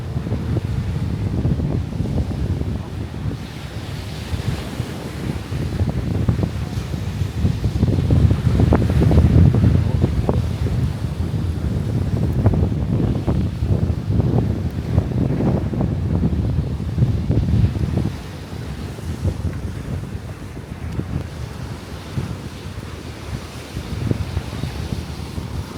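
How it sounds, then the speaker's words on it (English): Strong gusty wind roars into the microphone on a hotel beach in Rhodes, with surf and waves churning underneath, rising and easing but never stopping. "It's really windy today."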